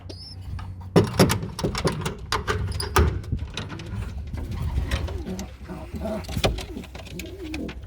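Racing pigeons coo in a loft, with repeated soft, low cooing calls over a close, busy background of rustling and shuffling and occasional thumps.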